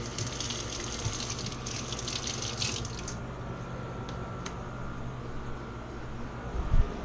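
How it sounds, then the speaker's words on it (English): Basil being rinsed under a running kitchen tap, a steady close gush of water hissing throughout, with brief splashy bursts early on and a small clatter near the end. "Give it a little rinse."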